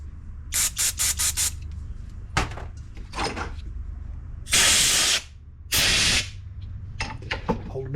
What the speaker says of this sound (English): Spray this out.